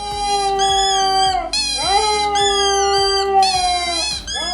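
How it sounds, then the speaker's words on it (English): A Siberian Husky howls loudly and up close in long, wavering, sustained tones with rising and falling pitch, broken by a brief pause partway through. "The Siberian Husky's howl can be heard up to 10 miles away."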